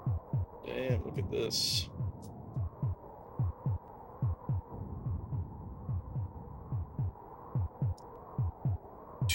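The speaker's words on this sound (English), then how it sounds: "If you're curious why this game has that heartbeat noise, it's effectively an indicator for how well you're doing." Heartbeat noise in Populous on the SNES, a low regular thumping pulse repeating steadily about twice a second throughout, with game effects and a brief remark from a player over it.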